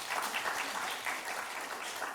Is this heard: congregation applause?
yes